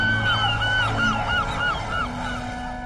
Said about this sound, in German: Oft eingehüllt in eine Wolke schreiender Möwen, die auf den Beifang lauern.